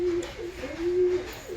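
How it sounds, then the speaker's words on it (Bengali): Breeding pigeons kept at home coo close by in a low, repeated throaty call, several soft phrases running through the short stretch with faint background noise. "এগুলো আমার সব ব্রিডিং পায়রা।"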